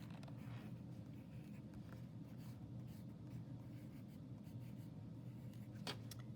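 Pencil writing a name on paper at a school worksheet, a faint steady scratching over a constant low hum with no voices.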